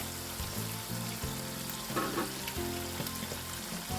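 Minced meat fries in a pan for a shepherd's pie as tomato paste is added, giving a continuous loud sizzle with a brief splattering burst midway and a steady hum underneath.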